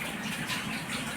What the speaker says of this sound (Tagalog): Narinig niyo yung bagsak ng ulan, no? Kasi yung alulod, pinadala sa loob.